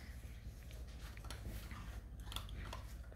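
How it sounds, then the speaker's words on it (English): Six-week-old Bluetick Coonhound puppies crunch dry cat food: faint, irregular crisp chewing and biting sounds close by, over a low steady hum. "Oh, you hear some crunching?"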